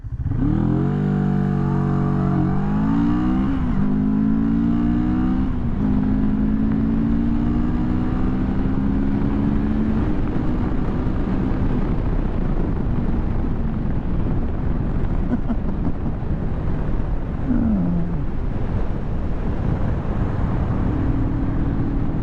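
A 2022 CFMoto 650NK motorcycle accelerates hard through the gears, its engine note climbing in pitch with audible shifts over heavy, continuous wind rush.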